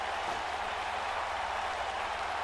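A large wrestling crowd roars steadily at a Money in the Bank ladder match, a dense wash of cheering that stays even and loud throughout with no distinct chant rhythm standing out.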